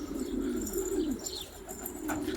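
Domestic pigeons coo nearby, one low rolling coo followed by fainter calls and a light flutter, under a soft outdoor background.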